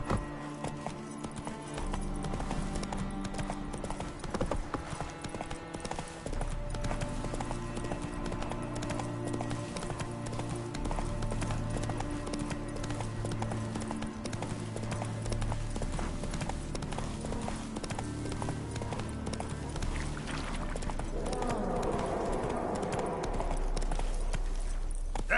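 A horse gallops in The Witcher 3 video game, its steady rhythmic hoofbeats close and continuous over a low music bed, with a short whoosh near the end.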